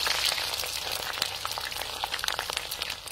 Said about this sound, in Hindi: तो चलिए हम प्याज फ्राई करते हैं